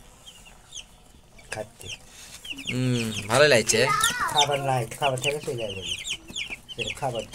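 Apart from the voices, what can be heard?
Sonali breed chickens clucking on a poultry farm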